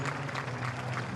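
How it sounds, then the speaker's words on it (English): A motor racing crowd at a Mini Challenge UK race cheers and applauds after a crash, a dense and steady roar of noise heard from a distance, with no clear speech over it. "Let's be quiet and have a listen to that crowd."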